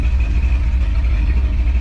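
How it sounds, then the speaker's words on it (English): A car engine idles with open exhaust cutouts and Cragar headers, a loud, steady low rumble with a lumpy, even pulse that holds throughout. "See what it sounds like with a bit of a open headers at idle."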